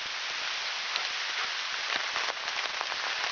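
Steady rain falling on surfaces outdoors at a drenched campsite, a dense, even patter with scattered nearer drips, continuous and moderately loud, no voices.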